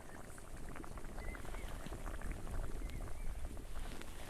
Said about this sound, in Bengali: সর্ষে বাটাটা দিয়ে একটু ফুটিয়ে নিয়েছি